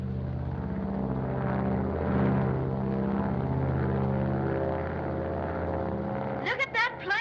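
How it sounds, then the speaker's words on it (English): A propeller plane drones steadily as it climbs, its engine hum continuous and fairly loud, with a brief burst of voices near the end. "Look at that plane climb"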